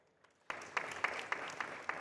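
Audience applause welcoming a panelist at a transport decarbonisation conference panel in Paris, starting abruptly after a near-silent pause, then a steady patter of claps, fairly quiet and distant.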